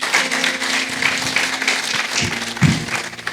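A church congregation applauding the saints, a short burst of scattered clapping at moderate loudness, with faint voices underneath.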